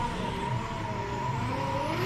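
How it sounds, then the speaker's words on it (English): Drift car engine at Manfeild during a DriftWars battle, a steady loud droning motor note with sustained tonal bands, revving continuously for the full stretch without pause. "I can't see the cars, but I did hear the motor"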